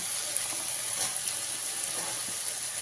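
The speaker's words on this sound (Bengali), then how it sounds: "আলুটাকে তেলের মধ্যে দিয়ে একটুখানি নাড়িয়ে নিয়ে তার মধ্যে দিয়ে দেবো বিন" Potato pieces and beans stirred in hot oil in a pan, a steady loud sizzle with faint scraping and clicking of the utensil, no voices.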